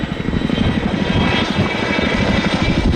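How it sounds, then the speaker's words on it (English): Steady, loud roar of a display aircraft diving toward a 100-foot hard deck at the RIAT 2023 air show, with broadband engine and air noise filling the whole stretch without a break. "They dive the aircraft back down towards their hard deck of 100 feet for today's display."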